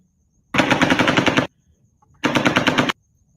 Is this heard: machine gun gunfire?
yes